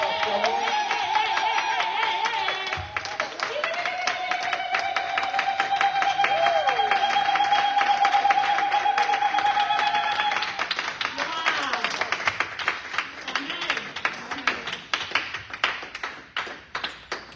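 Church congregation acclaiming the Lord with clapping and taps under a sustained organ or keyboard tone, then more rhythmic claps toward the end, with voices heard throughout.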